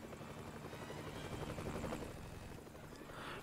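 A helicopter in the Family Guy video game drones with a constant, fairly faint rotor whir and engine hum, alone and unbroken throughout.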